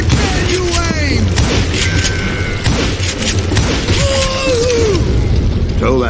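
Gunshots crack repeatedly in the Western shooter Call of Juarez Gunslinger, loud close shots scattered through dense combat noise, with whistling tones and voices mixed in.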